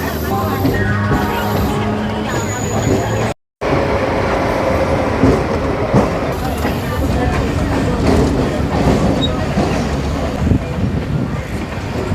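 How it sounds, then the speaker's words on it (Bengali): A train pulls out of platform three at Howrah station in Kolkata, bound for Mayapur. It makes a loud, steady rolling rumble with wheel clatter for the whole stretch, broken by one brief dropout, while voices murmur faintly beneath. "আমাদের ট্রেন ছাড়লো হাওড়া স্টেশনের তিন নম্বর প্ল্যাটফর্ম থেকে"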